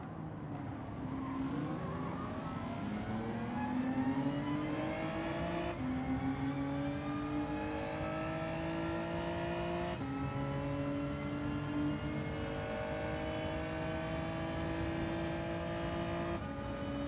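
A Gr.4 race car engine in Gran Turismo 7, a steady close whine rising smoothly in pitch, cutting back sharply at each upshift and climbing again, three or four shifts in a row with no voice over it.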